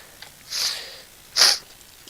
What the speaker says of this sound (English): If I keep sniffling, it's because I've got hay fever